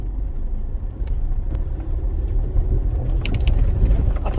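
Car on an off-road trail in Mid Wales, its engine rumbling steadily and its wheels churning and spinning, a loud continuous drone with a few sharp knocks.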